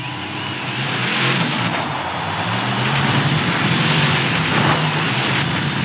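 Monster truck engines rev loudly and steadily at the start line of a Vancouver arena event, a dense sustained roar that swells slightly and holds throughout.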